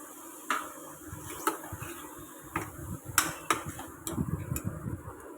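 Carrots, peas, beans and tomato being stirred and sautéed in a pan, with scattered clinks and scrapes of a spoon against metal over a faint continuous sizzle, close and moderately quiet.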